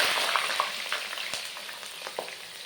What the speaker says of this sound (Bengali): বেগুনগুলো হালকা ভেজে নেব